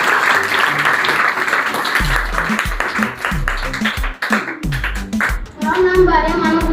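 Children clap and applaud at a primary school children's fair in a classroom, a dense burst of hand claps that thins toward the end as kids talk over it.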